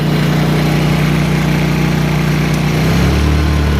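A Honda EU2000 inverter generator roars steadily at full throttle close by. A constant loud engine drone with a strong low hum fills the whole stretch, and the pitch dips slightly near the end, with no voices.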